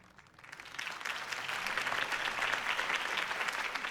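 In the video game Batman: The Telltale Series, a crowd breaks into steady applause that swells within the first second and holds strong, dense clapping and cheering filling the space.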